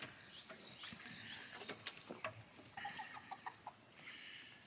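Several chickens cluck and chatter nearby in short, irregular bursts, with soft scratching and rustling between the calls and no talking.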